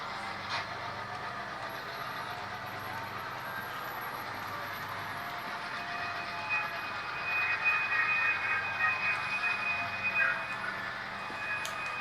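An HO scale model train backs up on a layout to pick up its caboose, a faint steady mechanical hum and whine that builds slightly in the second half, with no voices.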